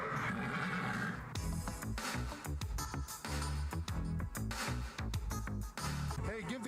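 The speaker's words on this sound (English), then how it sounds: "Hi, Mr. Horsey" A horse whinnies amid a dense, loud mix of music and sound effects, with voices breaking in now and then throughout.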